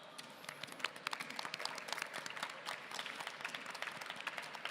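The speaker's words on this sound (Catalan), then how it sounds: "Un fort aplaudiment per tots." An audience applauds at Manga Barcelona, a steady, dense clapping from a crowd heard at a moderate distance, lasting throughout with no speech over it.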